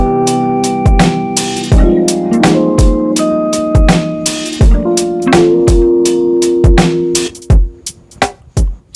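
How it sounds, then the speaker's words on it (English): A lofi drum kit loop with added hi-hats plays in a steady groove, crisp repeated hi-hat ticks over punchy kicks and snares, with sustained tonal layers underneath, loud and close with no talking. "I added some hi-hats, so it sounds like this all together."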